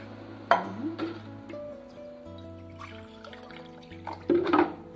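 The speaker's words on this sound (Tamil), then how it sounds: "இப்போ வந்து 2 டம்ளர் தண்ணி ஊற்றணும்." Water poured from a tumbler into rice in a cooking pot while making venpongal, soft trickling and splashing with a couple of brighter pours, close and fairly quiet.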